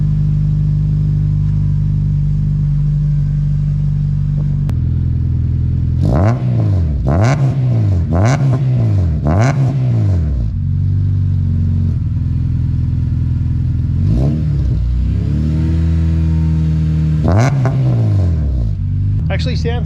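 A Honda Accord CL9 Type R engine with an FK8 exhaust revving repeatedly, each sharp rise and fall in pitch following a steady loud idle, recorded close to the car.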